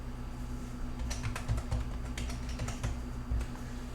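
A password is typed on a computer keyboard, a quick run of soft, close key clicks in short bursts over faint room hum, with no talk.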